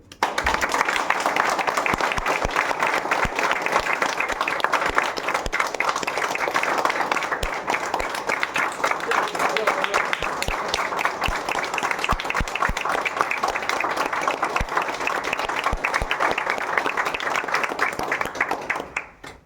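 Audience clapping at an achievers' celebration event: dense, steady applause from a large crowd that carries on without a break for nearly twenty seconds before cutting off, with little talk over it.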